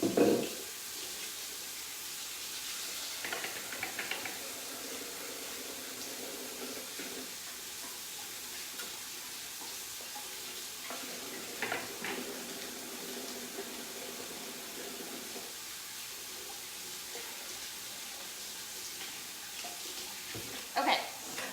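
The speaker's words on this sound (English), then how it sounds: "Let me wash my hands from all the meat." Water runs steadily from a kitchen tap while hands are washed clean of raw meat, a soft constant hiss with a few clunks and splashes at the start and end.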